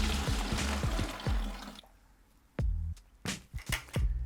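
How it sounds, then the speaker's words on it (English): Water poured off lime putty in a bucket, a gushing pour that stops abruptly, followed by a few sharp drips and splashes in a quiet room. "The first thing you do is pour the water off."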